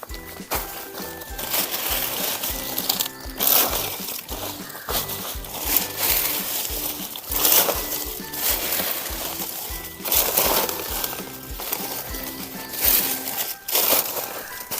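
Soil being scooped and poured into grow bags for planting aromatic turmeric, giving repeated close, gritty crunching and rustling bursts in an irregular rhythm.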